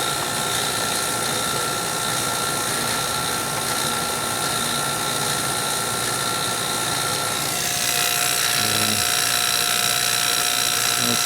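A vacuum pump drones steadily and loudly with a constant mechanical hum, its tone shifting slightly partway through, after nearly 23 hours of continuous running.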